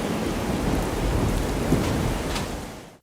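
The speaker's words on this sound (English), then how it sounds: "as the rain pounds the glass roof directly overhead in the garden, the noise of the rainfall gets nearly loud" Heavy rain pounding on a glass roof overhead in a garden inside a horror game, a dense, loud, unbroken hiss of rainfall with a deep rumbling underlayer, fading out abruptly at the very end.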